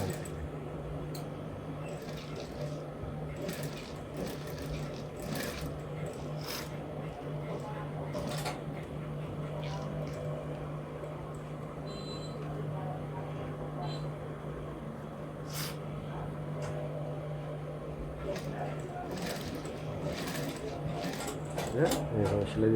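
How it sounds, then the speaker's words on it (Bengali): A sewing machine stitches a shirt pocket with a steady, low mechanical hum running beneath a person talking, with faint clicks scattered throughout. "এইভাবে সেলাই দিতে হবে"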